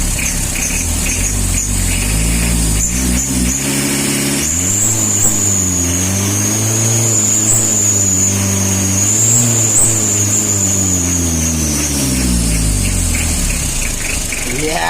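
A Mitsubishi L300 van cruising at 80 in fifth gear, a loud steady engine drone with shifting harmonics and road rumble, heard from inside the cab along with a high whine.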